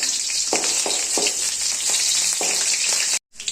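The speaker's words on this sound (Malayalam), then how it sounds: "നമ്മളിതിലേക്ക് ഒരു പത്ത് അല്ലി വെളുത്തുള്ളി ഇവിടെ തൊലി കളഞ്ഞെടുത്ത് വെച്ചിട്ടുണ്ട് അത് നമുക്കിതിലേക്കൊന്ന് ഇട്ട് കൊടുക്കാം ഇനി ഇത് നമുക്ക് ചെറുതായിട്ടൊന്ന് വഴറ്റിയെടുക്കാം" Ten peeled garlic cloves sautéing in hot oil in a pan for a chutney, a steady loud close sizzle with soft stirring scrapes every half second or so, cutting off briefly near the end.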